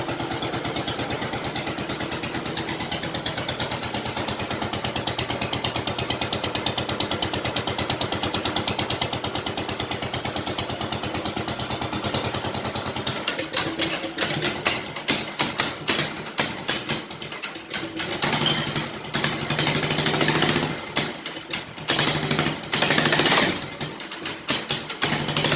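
A Predator 420cc small engine revs and runs rough and loud through a newly welded exhaust, with sharp popping bursts and uneven throttle blips in the second half.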